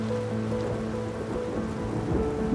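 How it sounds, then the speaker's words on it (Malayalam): Steady rain with a low rumble of thunder in an animated children's story, a continuous dense downpour holding even throughout, with no voices. "അങ്ങനെ മഴക്കാലം തുടങ്ങിയ ഒരു ദിവസം ഇടിവെട്ടുന്ന ശബ്ദം കേട്ട് ചക്കിപ്പൂച്ച ഞെട്ടി ഉണർന്നു."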